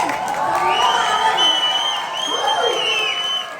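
Audience clapping and cheering at a children's fashion show during an Ugadi celebration, a dense crowd roar of applause with whoops, steady and loud throughout, fading slightly at the end.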